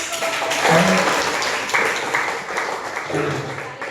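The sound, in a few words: applause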